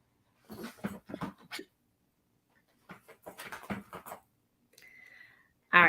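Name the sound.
puppy whimpering in a cage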